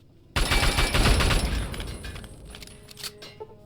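Turret gunfire in Fallout 3: a sudden loud, close burst of rapid automatic fire that rattles on for over a second, then fades into a decaying tail with scattered metallic clinks.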